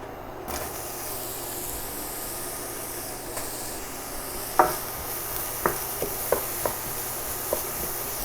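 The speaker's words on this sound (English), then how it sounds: "I'm going to add the leeks to the pan" Leeks dropped into hot olive oil in a pan over medium heat give a steady soft hiss of sizzling, punctuated by several sharp clicks and taps of the pan and utensil in the latter half.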